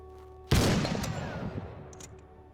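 A single loud burst of enemy gunfire in a video game erupts suddenly, then tails off into fading echoes and scattered faint clicks.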